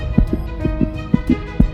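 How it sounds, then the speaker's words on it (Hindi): A heartbeat sound effect thumping in a steady lub-dub rhythm, deep and loud, about six beats over a low sustained hum, with no voices. "मेरी दिल की धड़कन बढ़ चुकी थी।"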